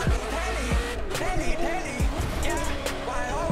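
A Ferrari F40 drives in the racing game The Crew 2, its engine revving loudly with shifting pitch while tires squeal and skid in short bursts.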